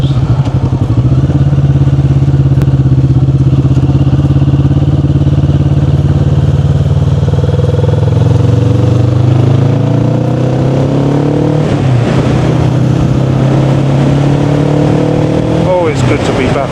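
A Kawasaki Vulcan S motorcycle rides along a road toward the countryside, its engine loud and close with a steady drone, then revving through gear changes near the end amid wind noise.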